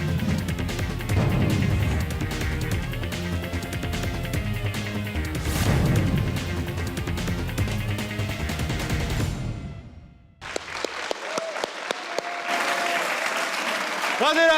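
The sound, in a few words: audience applause for Abbas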